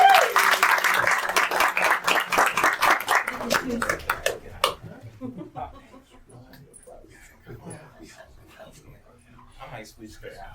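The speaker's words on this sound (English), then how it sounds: "Keep that applause going as we will now welcome Dr." A crowd claps briskly and loudly for about four seconds, then the applause breaks off abruptly and scattered voices and a few faint sounds follow.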